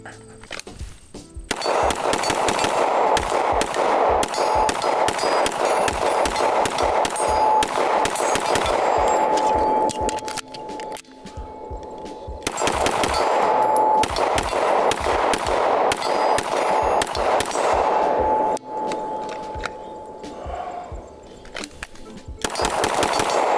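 A Sig Sauer P226 X5 pistol, American made and fitted with iron sights, fires in rapid strings of loud, sharp shots, with short pauses between strings, heard close up outdoors.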